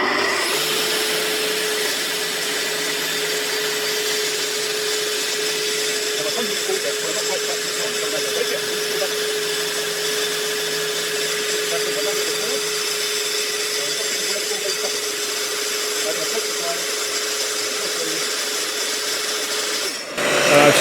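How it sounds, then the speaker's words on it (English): A track saw plunge-cuts through wood along a clamped guide rail, giving a steady, close motor whine with cutting noise that runs unbroken for about twenty seconds and stops abruptly at the end; no one speaks. "make sure you hold the track saw down onto the track, because there's a chance of kickback"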